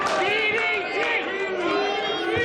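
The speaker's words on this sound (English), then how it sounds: "The crowd calling for the DDT." Wrestling arena crowd at a live match chanting loudly for a DDT finisher, a dense rhythmic roar of many voices filling the room with steady rising and falling pitch.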